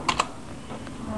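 A short burst of typing on a computer keyboard as a movie title is searched: a few quick keystrokes near the start, then quiet clicking under low room noise.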